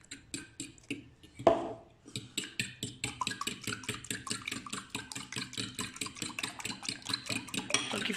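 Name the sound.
mixing milk into the mixture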